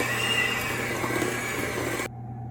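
Electric hand mixer churning a very sticky whole grain bread dough, a steady motor whir lasting about two seconds, then cutting off to quiet room tone.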